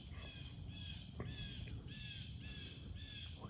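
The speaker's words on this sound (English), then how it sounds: "What is that? That's a loud bird." A loud bird calls outdoors, giving a series of about five harsh cawing calls at an even pace over steady background noise, with no talk.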